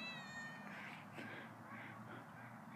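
A hungry cat stuck up a tree in Rice Lake's Veterans Park gives a short, faint meow near the start, followed by quiet outdoor background.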